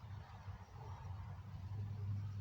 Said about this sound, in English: that was the mail van that I just heard